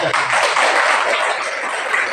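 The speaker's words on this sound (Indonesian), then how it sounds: "Kita tepuk tangan." A group claps hands together during a short drama performance, a loud, dense, even burst of clapping that fills the moment without talk.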